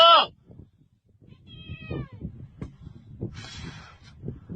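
A cat lets out a loud meow at the start, followed by fainter meows and rustling, with quiet voices in the background.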